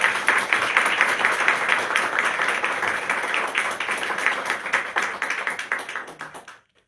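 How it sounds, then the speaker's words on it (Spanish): Sustained audience applause for a professor after a master class at a postgraduate farewell ceremony at San Marcos university, dense steady clapping from many hands lasting several seconds before cutting off abruptly. "solicito que se la reciba con aplausos al profesor por su clase magistral"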